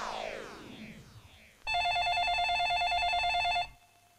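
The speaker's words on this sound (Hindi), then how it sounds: "भोरे भोरे कोने के फोन आ गेल जी।" A telephone rings in an early-morning scene from a Bhojpuri film: a bright electronic ring tone starts abruptly after some background noise, holds loud and steady for about two seconds, then cuts off.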